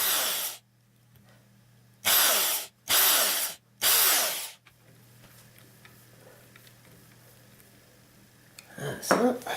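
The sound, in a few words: drilling pilot holes for guitar machine heads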